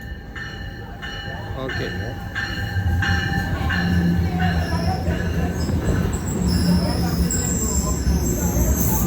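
A double-decker commuter train rolls through Rahway Station, with rumbling wheels, rhythmic clacks and high squealing tones building over nine seconds while a person talks briefly nearby.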